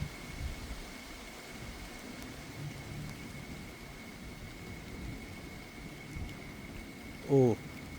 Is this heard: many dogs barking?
no